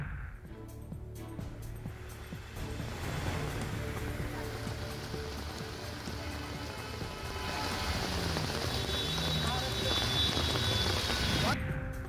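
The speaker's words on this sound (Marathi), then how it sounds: "मुसळधार पावसामुळे पुण्यातल्या सिंहगड रोड खाली पाणीच पाणी" Heavy monsoon rain pours steadily on Sinhagad Road in Pune, a dense continuous hiss and patter that swells slightly louder toward the end, with no talk over it.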